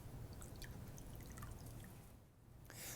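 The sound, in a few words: dry sponge being wetted with water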